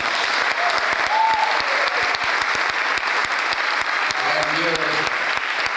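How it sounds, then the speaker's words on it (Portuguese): A large audience at a round-table session in Rio de Janeiro gives a strong, sustained round of applause, dense and continuous, while a voice speaks briefly over it. "aqui merece uma grande salva de palmas o nosso Walter"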